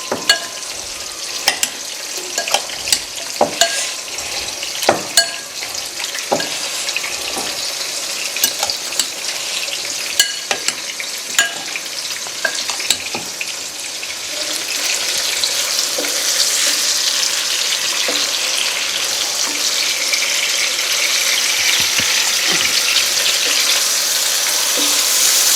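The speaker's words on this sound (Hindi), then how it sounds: "इसको अच्छी तरह मिक्स कर लें।" Chicken karahi with yogurt, red chili and cumin powder sizzling while frying, with a spoon knocking and scraping the pan in sharp irregular strokes early on, then settling into a steady, close, bright frying hiss.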